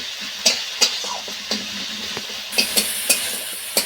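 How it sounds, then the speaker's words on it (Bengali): Ginger-garlic paste frying with onion in a pan, a soft sizzle broken by sharp, regular scrapes and clicks of a spoon stirring up close. "আদা রসুনটা খুব ভালোভাবে পেঁয়াজের সাথে এইভাবে কষিয়ে নেব।"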